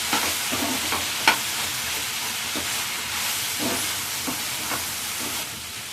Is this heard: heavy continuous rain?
no